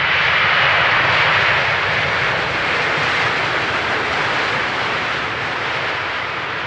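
An airliner arriving on runway 18R at Amsterdam Schiphol Airport roars past, a loud, steady jet rumble and broadband whoosh that holds for the whole stretch with no talk over it.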